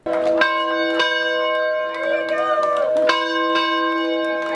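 Historic Grantsdale school bell, newly dedicated, rung by students in repeated strokes: loud, ringing tones with long sustained decay that overlap from strike to strike.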